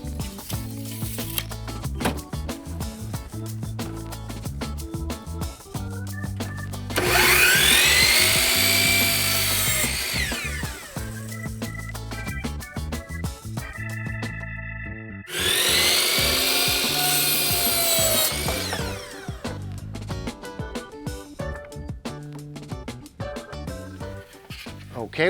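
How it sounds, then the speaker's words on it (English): A miter saw cuts wood pieces to length for a cornhole board, giving two loud whining cuts of about three seconds each over steady background music. "cut them on the miter saw"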